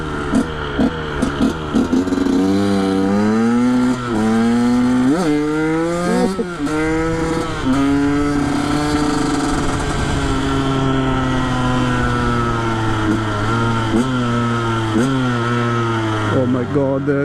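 A KTM 125 SX two-stroke dirt bike engine revs hard and close, its buzzing, raspy pitch climbing repeatedly through the gears with brief drops between shifts.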